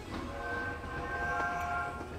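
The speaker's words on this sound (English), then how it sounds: "had to wait for the train to go" A train in the video game Lego Harry Potter 5-7 rolls past, sounding a steady, sustained horn over a low rumble of wheels, with no voices.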